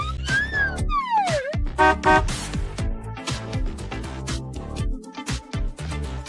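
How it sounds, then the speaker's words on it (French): An ambulance siren wails with rising and falling tones over busy cartoonish music and effects, loud and close. "C'est une ambulance."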